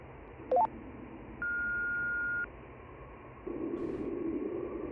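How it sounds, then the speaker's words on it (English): A steady electronic tone, like a telephone dial tone, plays over a radio in the video game Voyager-19. It holds for about a second after a short beep burst, set against constant static hiss with no talking. "Dial tone?"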